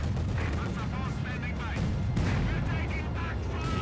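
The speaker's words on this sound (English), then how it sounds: "So one shot being fired." Gunfire and artillery from a Company of Heroes 2 match of Wehrmacht against Soviets: continuous dense battle noise with rattling shots and blasts throughout, loud and unbroken, with a commentator talking over it.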